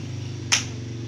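One crisp hand clap replaces a number during a classroom counting game, a single short burst standing alone against a steady background hum.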